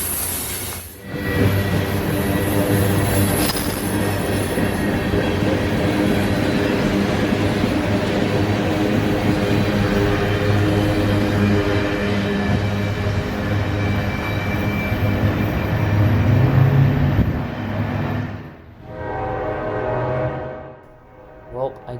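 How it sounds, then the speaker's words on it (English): A freight train rolls past on the W&A line, loud and close, with wheels squealing and rumbling steadily before the noise drops away near the end; a voice is briefly heard. "our next train would have quite the treat leading the consist south"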